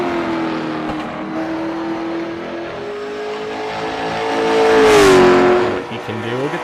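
Race car engine from a racing video game, driven at Kern Raceway to warm the tires before qualifying. A steady droning note climbs in pitch, swells to a loud peak near the end, then falls away, with commentary voices talking over it throughout.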